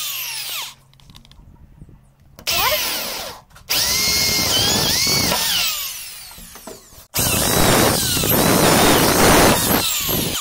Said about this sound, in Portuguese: aqui a gente já acostumou fazer o furo manual mesmo